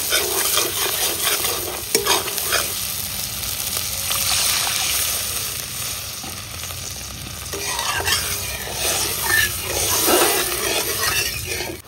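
Spices frying in oil for a rohu fish curry, with loud sizzling and repeated stirring scrapes in the pan, plus a brief watery slosh as water goes in, close and continuous for the whole stretch.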